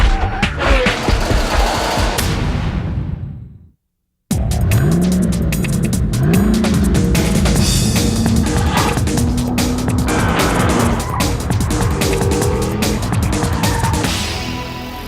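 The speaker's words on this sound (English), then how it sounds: "we're going to go boonie bashing as we take a look at Land Rover's newest Range Rover." A 2003 Land Rover Range Rover tearing along off-road, its engine roaring loud and close with tyre scrabble and rising revs, interrupted once by a brief cut to silence before the driving noise resumes over music-like tonal swoops.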